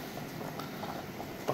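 Water bubbles at a low, steady simmer in a pot of beef for balbacua, with a soft continuous patter of small pops.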